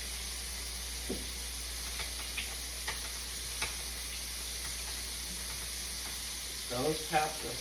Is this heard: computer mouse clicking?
no